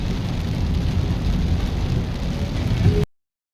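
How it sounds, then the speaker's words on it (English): Steady, heavy rain pours down on flooding roads near Half Way Tree in a dense, continuous hiss with a low rumbling undertone, no voices, ending abruptly. "I think the rain has been falling probably 20 minutes now"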